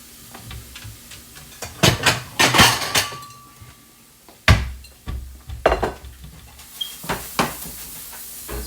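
Dishes and cutlery set on a plate, with a series of sharp, close clinks and clatters of ceramic and metal arriving in irregular clusters separated by short quiet gaps.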